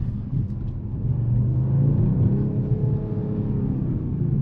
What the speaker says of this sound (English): Very robust sound, very aggressive exhaust sound in this CLE 53.